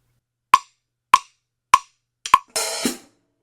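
One drum-kit measure: four evenly spaced sharp clicks, then a short, bright sizzling open hi-hat on the and of 4, alone and close.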